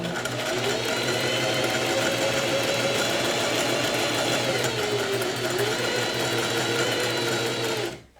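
A sewing machine stitching fabric in a sewing workshop, running nonstop at a fast even hum and clatter, close and loud, then slowing to a stop at the end.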